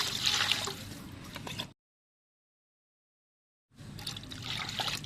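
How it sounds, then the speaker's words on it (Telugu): Water trickling and pouring into a cooking pot of fried rice for bagara rice, in two short bursts separated by a stretch of silence, fairly quiet and close. "ఇప్పుడు సేమ్ అదే గ్లాసు తోటి 7 గ్లాసుల వాటర్ వేసుకోవాలి"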